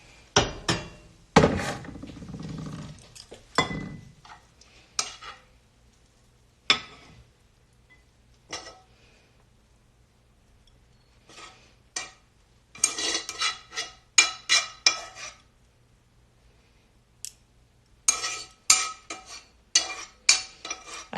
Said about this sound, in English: All right, I'm gonna plate this up for you guys.